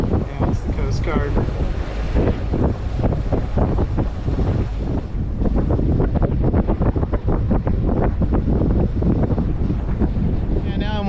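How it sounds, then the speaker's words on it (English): Strong, steady wind roars across the microphone aboard a sailboat moored at Two Harbors, Catalina Island, a loud continuous rush with gusty buffeting throughout, blowing around 12 knots. "got like 12 knots of wind, a little breezy"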